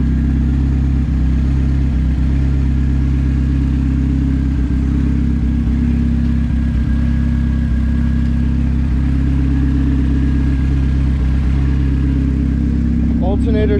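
A turbo-swapped Chevrolet Cobalt SS engine runs and idles at close range, a loud steady low drone with slight clatter, while people talk over it.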